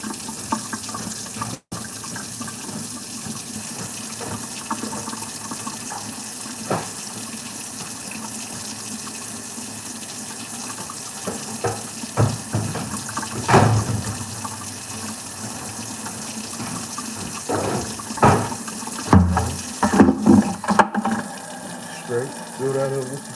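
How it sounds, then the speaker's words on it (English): A bathroom tap runs steadily to fill a container with fresh water during grouting work, a continuous gushing stream that grows louder and more turbulent toward the end, with no voices over it. "fill that up with some fresh water"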